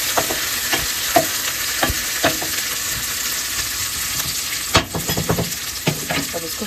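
Spices sizzling in hot oil in a pan, roasting alongside turmeric, ground cumin, amchur and salt; a steady loud crackle with sharp stirring clinks and scrapes scattered throughout.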